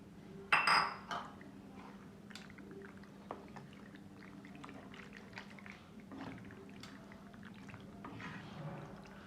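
Boiled macaroni pasta and vegetables tipped into a pan for hotel-style pasta, a brief clatter and clink of utensil on metal at the start, then soft scraping and faint shuffling at low level with no talk.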